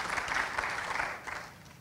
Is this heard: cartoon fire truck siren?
no